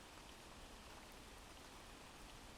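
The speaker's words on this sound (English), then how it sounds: "enjoy the rain sound." Steady, dense rain hiss plays continuously at very low volume, an even wash of falling drops with no other sounds.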